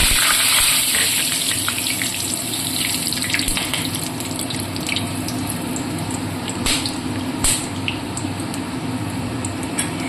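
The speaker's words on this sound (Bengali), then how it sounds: "তেজপাতা ফোড়ন দিয়ে দেব।" Whole garam masala and bay leaf hit hot oil and sizzle in a steady hiss, louder at first and then settling, with small crackles and pops scattered throughout.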